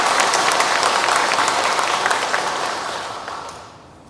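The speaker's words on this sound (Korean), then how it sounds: "이분들께 큰 박수를 보내주시길 부탁드립니다." A church congregation at Sunday Mass applauds volunteers, many hands clapping in a dense, even burst that holds steady and then fades away toward the end.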